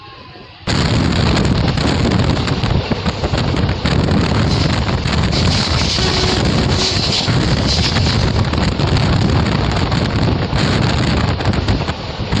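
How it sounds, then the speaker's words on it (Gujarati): Wind roars into the microphone on a train journey between Tirunelveli and Kanyakumari. After a quieter start, it jumps to a loud, continuous buffeting rush that lasts to the end. "વિન્ડ"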